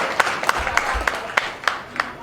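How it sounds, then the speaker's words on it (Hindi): Audience clapping to welcome a speaker at a World Indigenous Day gathering in Gariaband, a short scattered burst of hand claps with a loose, uneven rhythm and crowd murmur behind. "इनका जोरदार तालियों से स्वागत करो भाई"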